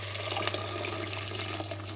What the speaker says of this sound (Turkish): Suyumuzu ilave edelim.